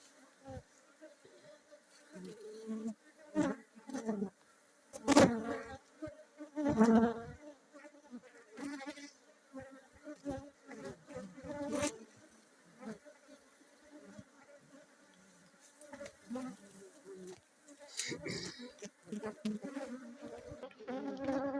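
Honeybees swarm around an opened hive in Yamoussoukro, a continuous close buzzing drone with individual insects swelling loudly past now and then, alongside occasional handling knocks.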